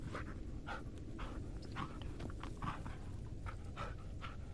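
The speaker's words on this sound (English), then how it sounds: "Even though, you haven't been a good dog lately." A dog pants in the Blair Witch video game, with quick rhythmic breaths repeating steadily over a constant hiss of ambient background noise.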